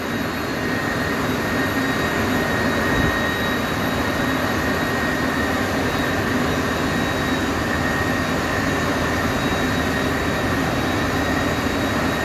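A rail grinding machine works the track during renovation of tram line 3, giving a loud, steady, continuous grinding roar that holds unchanged throughout with no voices.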